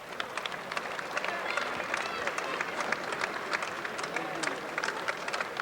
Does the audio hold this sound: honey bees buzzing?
no